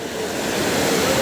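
A fast-flowing stream of water on the mountain route to Gaumukh rushes loudly and continuously, a dense broad hiss of turbulent water close by with no breaks.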